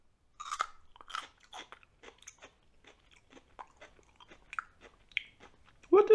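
Bites and chewing of a raw chayote con espina, the spiny squash, with a series of soft crunchy chews spaced through the clip, close and fairly quiet, ending in a louder burst.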